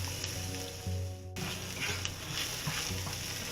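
Onions caramelizing in a pan for corned beef hash give a soft, steady sizzle, with faint stirring scrapes and clicks and no talk.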